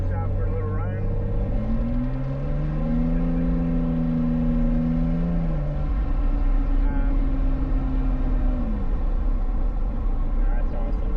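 A Porsche 904 sports car engine drones loud and close during a drive in Tampa, rising in pitch as it accelerates through the gears, then holding a steady tone before easing off.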